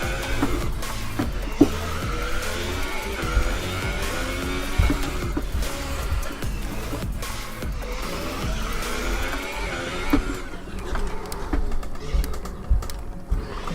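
An F1 2018 race car on the Monaco street circuit slides sideways, its loud engine wavering and tyres scrubbing through a continuous roaring stretch, with a voice occasionally talking over the action.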